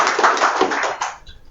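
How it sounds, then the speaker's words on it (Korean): Short burst of clapping from a forum audience applauding Hanam's mayor and a committee member, brisk and fairly close, fading out within about a second and a half. "하남시장님과 이용 위원님께 다시 한번 힘찬 박수 부탁드립니다"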